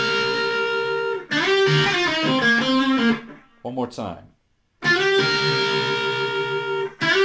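A blues rock lick on a distorted electric guitar rings out in clear sustained phrases, stops with a brief spoken remark between, then is played again.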